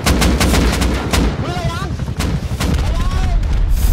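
Gunfire in the survival game Rust: a rapid burst of loud, close shots at the start, with scattered further shots throughout and whistling, warbling game sounds in between.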